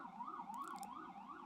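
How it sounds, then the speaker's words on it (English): Wailing emergency vehicle siren outdoors, its pitch sweeping steadily up and down in a continuous loop, loud and close, with no talk over it. "Sorry about the sirens, guys."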